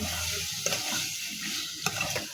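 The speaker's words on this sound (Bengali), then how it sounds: "লট্টা মাছগুলো দিয়ে দেওয়ার পরে একটা চামচের সাহায্যে উপর নিচে করে দিতে হবে" Loitta fish is turned through spice paste in a pan with a spoon, a constant hissing sizzle broken by a couple of soft scrapes and clicks, close by and with no voices.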